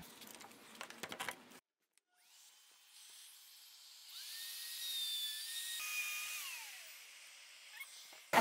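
A power tool cuts a dado into 1/2 inch plywood set in an adjustable jig, a steady mid-loud whine with shifting tones that builds over several seconds after a brief pause, following some clattering handling noise.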